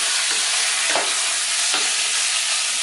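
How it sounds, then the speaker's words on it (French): Meat cooking in a pan for nems, a loud, continuous hiss of frying heard up close with a couple of brief stirring scrapes. "pendant que la viande est en train de cuire"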